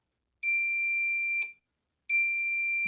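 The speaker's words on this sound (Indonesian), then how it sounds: "suara relaynya ya, ceduk-ceduk ya, kemudian lampu indikatornya LED-nya menyala dan buzzer juga menyala" A homemade fire alarm buzzer sounds two loud, steady electronic tones, each roughly a second long with a brief gap between, with a sharp relay click at the start and end of each burst.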